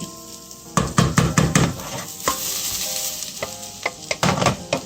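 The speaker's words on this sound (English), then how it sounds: "Before we're going to add the liquid, we'll just let it fry up a little bit." Rice sizzling and frying in olive oil with onions and garlic in a heavy-bottomed pot, a loud crackle punctuated by quick bursts of stirring and scraping.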